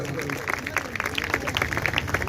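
A congregation at a church Christmas Day meeting claps to welcome families, with brief scattered applause and a voice talking over it.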